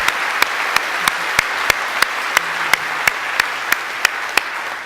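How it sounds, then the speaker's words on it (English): An audience at an academic talk gives the speaker a sustained round of applause, steady dense clapping throughout with a few sharper claps popping out at regular intervals, no talking over it. "thank Lata once again with a big round of applause"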